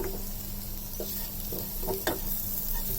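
Tomato, garlic and ginger sautéing in a pan, a dense steady sizzle with a few faint stirring taps and scrapes, the loudest near the end.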